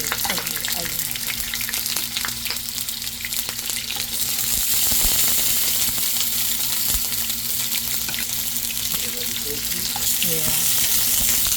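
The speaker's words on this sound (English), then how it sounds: "For now, I'm going to fry my tofu." Tofu fries in a pan with a steady, loud sizzle and crackle that runs the whole time, broken by occasional stirring clatter, with no talk over it.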